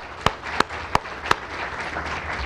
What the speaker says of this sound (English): ask that you give them a round of applause for the job that they've done